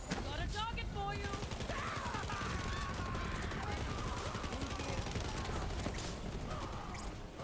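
Rapid SMG gunfire from Borderlands 3 on Mayhem 11, dense bursts of shots crackling close and continuously alongside other battle noise, with a voice speaking over it.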